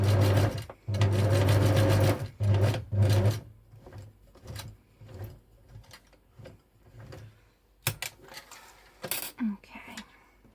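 Sewing machine stitching fabric, loud whirring runs at the start broken by short pauses, then quieter intermittent stitches and handling clicks nearby.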